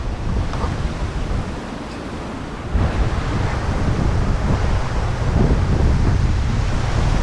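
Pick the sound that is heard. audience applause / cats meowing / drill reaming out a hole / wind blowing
wind blowing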